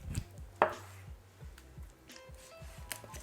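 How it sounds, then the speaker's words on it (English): Knife chopping raw chicken into portions, cutting the neck and breasts from the backbone, a run of regular dull thuds on a board with one sharp crack near the start, close and moderately quiet. "cut off the neck and both breasts from the backbone"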